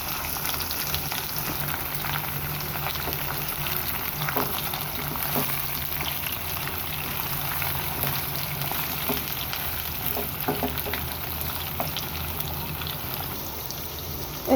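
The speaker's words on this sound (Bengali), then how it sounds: "এই তো মিষ্টি কুমড়াটাকে আমি একটু নেড়ে ছেড়ে দিলাম তেলের মধ্যে দিয়ে।" Pumpkin pieces fry in hot oil with browned onion and garlic, giving a steady, close crackling sizzle that runs unbroken throughout with no talking.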